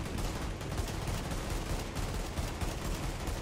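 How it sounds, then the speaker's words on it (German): Sustained automatic gunfire from the video game The Division, a dense, continuous rattle of shots filling the moment at steady loudness with no voices over it. "Jetzt kannst du schießen."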